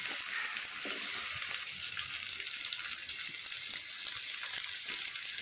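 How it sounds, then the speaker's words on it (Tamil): Onions sautéing in hot oil for a Batticaloa-style prawn curry, a steady, close, hissing sizzle that stays even throughout with no talking. "நல்லா வெங்காயம் வதக்க விடுறேன்."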